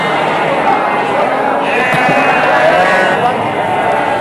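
Garut sheep bleat amid the steady bustle of the Tanjungsari sheep market in Sumedang, one clear bleat rising out of dense crowd noise and chatter.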